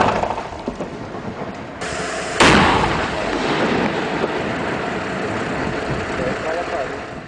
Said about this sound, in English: Blocks of granite are blasted apart from the rock at the quarry